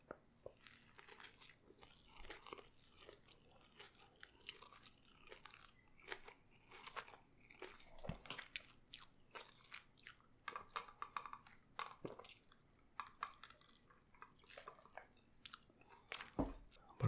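Close, soft chewing of a McDonald's Big Mac, with moist squishes and small crunches in a steady, irregular rhythm and no talking.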